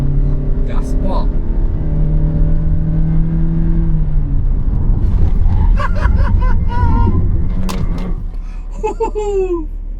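A car accelerates hard from standstill on tyre test ground, its engine note climbing and roaring loudly under shouting and excited voices, with higher squeals and cries near the end.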